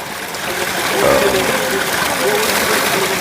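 Water pours steadily from three spouts at a roadside spring on the route from Tehri to Kedarnath, a loud continuous splashing flow close by, with voices talking faintly over it.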